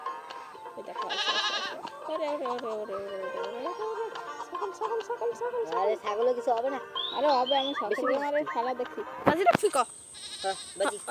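Goats bleat in short quavering bursts near the start and again at the end, while people talk almost continuously over them.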